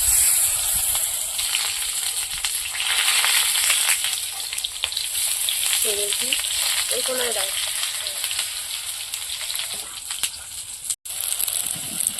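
Gram-flour battered bok flower fritters fry in hot oil in a kadai, a steady close sizzle with crackling bursts and brief scraping, a voice speaking faintly now and then.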